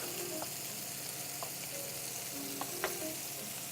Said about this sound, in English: make the ham nice and crispy on the outside. While they're searing